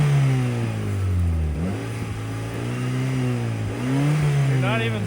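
A Honda Civic's engine revs while the car sits stuck in a snowbank during a blizzard, a loud, close droning note that climbs and dips over and over without pause.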